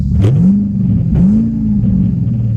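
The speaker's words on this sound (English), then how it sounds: "because this is going to be loud. This car's loud." A loud Ford Thunderbird engine rumbles close up, revving twice in rising swells before settling back to a deep, steady idle drone.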